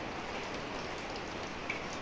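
Steady rain falls in a dense, even hiss of drops hitting surfaces, continuous and moderately quiet with no voices.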